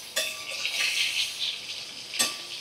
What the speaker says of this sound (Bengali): বেগুনের এপাশ ওপাশ সবটাই ভাজা করে নেব।